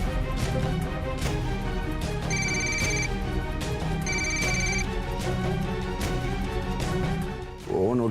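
Mobile phone ringtone ringing continuously, a bright repeating melodic tone loud and close, playing over background music with no talk.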